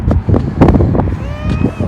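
Strong, cold wind buffets the microphone outdoors in loud, rumbling gusts that rise and fall, with a thin whistling tone briefly appearing near the end.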